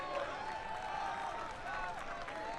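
A stadium crowd at Cooley Law School Stadium applauding a substituted soccer player: steady, distant clapping and murmur spread across the stands, fairly faint, continuing throughout with voices mixed in.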